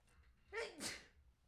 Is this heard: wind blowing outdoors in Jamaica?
no